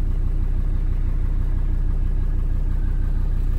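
Mercedes 300D diesel car with rebuilt injectors driving, a steady low rumbling engine drone heard from inside the cabin, loud and continuous with no talking.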